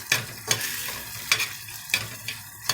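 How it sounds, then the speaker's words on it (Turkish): Doner sauce seasoned with cumin is stirred in a pan, with a spoon scraping and tapping in a regular rhythm over a soft, steady sizzle. "Kaşığın ucuyla kimyon ekliyorum. Sosumuzu karıştırıyorum."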